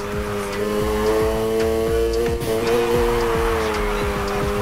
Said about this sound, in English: Start the drift, slam on the gas once and steer, then back on the gas quick to maintain